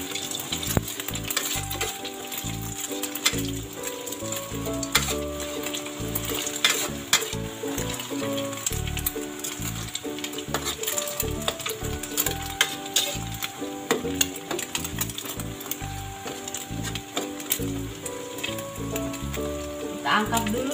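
Eggs fry and are stirred in a pan for Surabaya-style fried noodles: a steady, close sizzle with scraping stirs runs through the whole stretch, over a constant tonal background.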